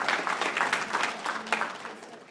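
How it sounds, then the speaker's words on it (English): An audience at a live seminar claps in a short, lively burst of applause that stays fairly close and loud and then tapers slightly near the end. "Give her a round of applause."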